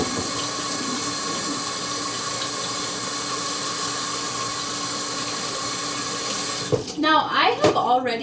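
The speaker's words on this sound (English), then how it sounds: "Wash my hands." Running tap water in a home kitchen sink, a steady hiss of flowing water throughout, ending with a few splashes and clatters as hands are washed before cooking.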